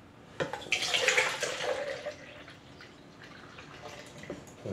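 Freshly home-pressed orange juice poured, a splashing liquid stream that is strongest early then thins into lighter trickles and drips, close and alone.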